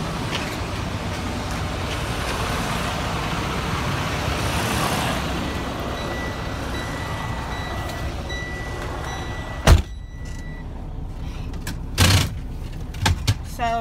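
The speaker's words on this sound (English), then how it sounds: "So I'm gonna back the trailer up just a little bit." A truck slowly backing up a fully loaded trailer, heard as a steady low diesel rumble close by, with a few sharp mechanical clunks near the end.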